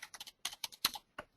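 Quiet, close typing on a computer keyboard produces a quick, irregular series of sharp key clicks in short clusters with brief pauses between them.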